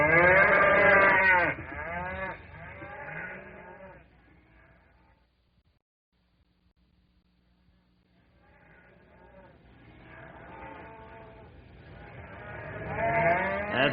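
Frightened cattle low in corrals as a radio drama sound effect: loud, overlapping moos at the start fade to near silence, then the bellowing swells back up close by and grows louder toward the end.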